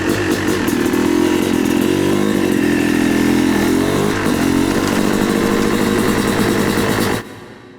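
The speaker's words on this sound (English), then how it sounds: "ride the bike off down the driveway and see what happens" A motorcycle engine runs loud and close with a steady buzzing drone, shifting pitch slightly as the bike moves off down a driveway, then cutting off abruptly near the end.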